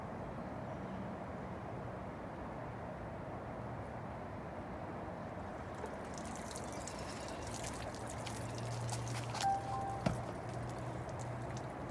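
Water draining through a car sunroof drain line, a steady faint trickle and pour running continuously, with a few small clicks and handling noises toward the end and no talking.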